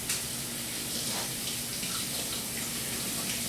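Steady running cold tap water splashes continuously over vegetables being rinsed, a close, even rush of water with no talking.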